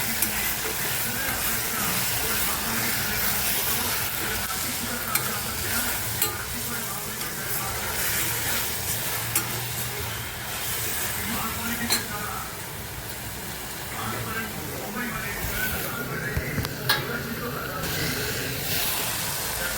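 Chandan batwa bhaji greens sizzle and hiss steadily in a pan while being stirred, a continuous close frying sound with scraping stirs throughout and a voice speaking over it.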